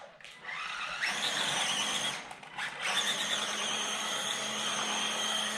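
A vintage Tamiya Porsche 908 1/10 scale RC car races at speed, its electric motor whining high and loud with rising and falling pitch, dipping briefly twice as it passes or slows.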